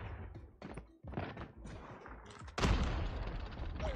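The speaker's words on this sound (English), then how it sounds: "Grenade out!" Grenade blast in the mobile shooter Call of Duty Mobile, a sudden loud burst near the end that cuts across scattered gunfire thuds and game effects.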